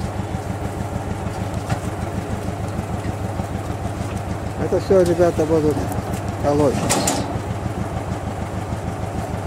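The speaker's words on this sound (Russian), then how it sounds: "Это только один трактор." A single tractor engine runs steadily close by in a village, its low rhythmic idle throbbing throughout while people talk over it.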